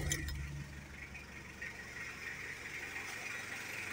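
A Mitsubishi Adventure engine runs after a timing belt replacement, giving a faint, steady idle hum with a little mechanical whir, heard alone and at some distance.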